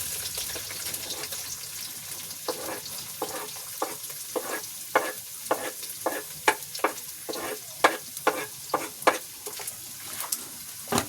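Food stirred and fried in a pan on a stove: steady sizzling under rhythmic scraping strokes of a utensil, moderately close, with no talk.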